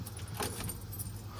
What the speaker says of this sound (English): So let me go get my keys, guys.